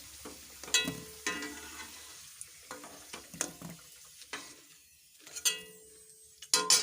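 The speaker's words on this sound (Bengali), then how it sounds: "এরকমভাবে ঠিক লাল লাল করে ভাজবেন যাতে মাংসটা ভালো টেস্ট হয়" Chicken frying with masala in a pan gives a soft continuous sizzle, broken by sharp scraping stirs of a spatula against the metal at irregular intervals, close-up and without talking.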